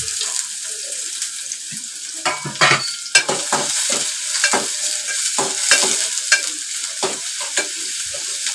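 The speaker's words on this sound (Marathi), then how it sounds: "त्यात मी कांदा घालते फोडणीला." Oil sizzles steadily as onions fry, with repeated scraping and stirring clatters of a spoon against the pan throughout.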